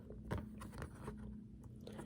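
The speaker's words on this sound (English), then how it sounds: "if you guys hear me chewing this gum" Quiet, close chewing of gum: a few soft wet smacks and crunchy bites against a low hum, with no talking.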